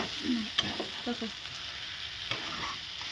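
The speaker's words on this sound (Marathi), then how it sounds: "आलं बघा कस का चटा चटा वाजतंय" Brinjal frying in a pan gives a steady close sizzle with light crackles and a few stirring scrapes, while a faint voice is briefly heard underneath.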